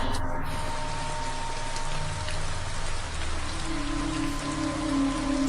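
Rain falls steadily and close by, a dense patter of drops on surfaces that holds constant throughout, with a faint low rumble and a few brief tones in the background.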